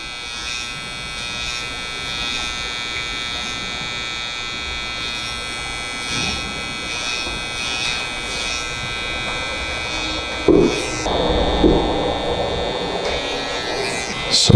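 Electric hair trimmers buzz close up while shaping a hairline during a taper and shape-up on hair grown out in braids or twists. The steady, high-pitched hum runs throughout, with a few brief louder bumps near the end.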